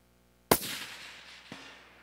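A single loud rifle shot cracks at an outdoor shooting range, its blast decaying into a long rumble, followed a second later by a fainter sharp report like a distant impact or echo.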